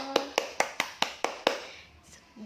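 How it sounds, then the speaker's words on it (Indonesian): Children in a classroom clap for a student, about seven quick, sharp claps in an even rhythm that stop abruptly, followed by a faint murmur. "tepuk tangan dulu buat Angel."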